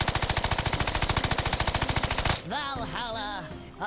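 Uzi fire in the Worms video game, a rapid, loud burst of evenly spaced shots lasting over two seconds, then cut off and followed by whooshing game effects and a short cartoonish vocal sound.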